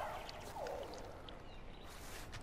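In the video game Far Cry Primal, a companion urinates on a deer: a short liquid pouring stream, most distinct in the first second, over a constant low game ambience.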